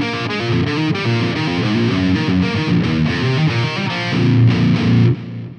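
Distorted electric guitar through a Fractal AX8 amp model with no boost engaged, a steady chugging riff heard alone that cuts off sharply near the end and leaves a short decay.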